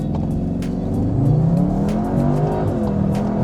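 A CUPRA Leon Sportstourer, a 310 bhp hot estate, accelerating hard in CUPRA mode, its engine note climbing steadily in a loud, close, sustained surge from inside the car.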